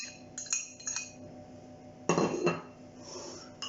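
Peanuts and finely chopped onions are crushed for rougail achatine, giving faint intermittent clinks and scraping knocks of a utensil against a bowl, quiet and close with no talk.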